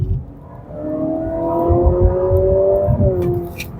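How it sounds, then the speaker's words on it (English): A 2025 Honda Civic RS e:HEV hybrid accelerates with its pumped-in synthetic engine sound, a smooth rising multi-tone whine that climbs steadily, dips briefly, then carries on over low road rumble. "So it kind of sounds a bit like a Civic Type R without, of course, the exhaust themselves."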